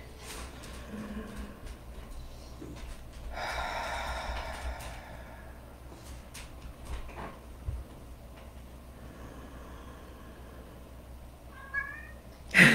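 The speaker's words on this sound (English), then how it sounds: "My cat, so cute." A pet cat meows in a short, clear burst near the middle, with a faint snort and small rustles around it against a quiet indoor background.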